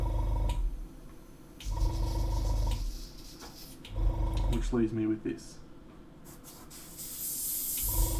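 Bursts of water spray rinse out a paintbrush during cleanup after painting, several hissing sprays in repeated rhythm with brief pauses between, close and fairly loud, with a voice speaking briefly near the end.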